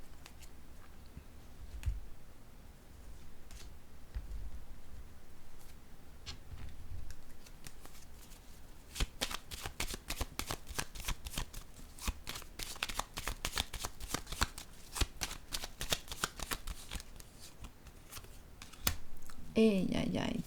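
Tarot cards being shuffled, handled and laid down on a table, a run of soft papery riffles and crisp slaps that grows busier and denser midway, close and quiet, with a voice talking over parts of it.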